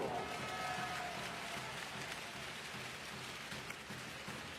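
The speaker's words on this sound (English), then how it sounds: "Applaudissements du public pour la SIG Strasbourg." Arena crowd at a SIG Strasbourg versus medi Bayreuth basketball game applauding, a steady dense wash of clapping and crowd noise that holds throughout, moderately distant and even.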